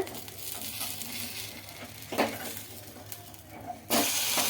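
Rava breakfast batter fries in a little oil in a pan on a stove, giving a steady close sizzle with faint crackle and brief louder bursts of spatter.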